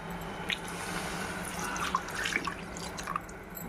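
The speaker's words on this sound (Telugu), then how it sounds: "వాటర్ పోసుకుందామండి" Water is poured into an Andhra-style mutton masala curry as it cooks, making a steady close liquid splash broken by scattered drips and small plops.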